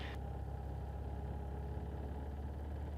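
A Jabiru light aircraft engine runs at 2,000 revs during a pre-takeoff magneto check, a steady, quiet drone with a low rumble throughout and no talking.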